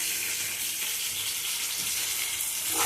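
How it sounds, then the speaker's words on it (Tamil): Garlic and green chillies frying in hot oil for a potato kara kuzhambu, a steady close sizzle with broadband crackle throughout and no voices. "அப்புறமா பூண்டு, பச்சை மிளகாய் போடுறேன்."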